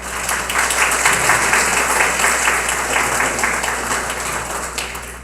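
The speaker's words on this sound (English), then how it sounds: "Let's give a warm round of applause for Mr." Audience at an interfaith iftar dinner applauding after a Quran recitation, a full, even burst of many hands clapping that swells and then tapers off toward the end, with no talking.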